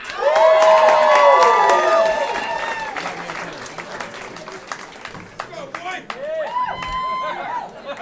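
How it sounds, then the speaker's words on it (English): A comedy club audience applauds and cheers for a stand-up comedian, loud and dense at first, then thinning into scattered claps, whoops and chatter over several seconds. "applause for Stephen Agyei."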